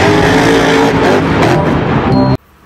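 A toy monster truck's engine roar, loud and close, a dense revving drone that holds steady then cuts off abruptly near the end.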